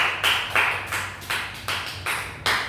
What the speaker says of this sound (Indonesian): Beri tepuk tangan dulu pada Rizka.